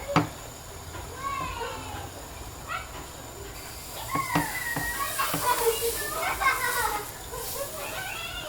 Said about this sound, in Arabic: الوليدات راهم يلعبوا برا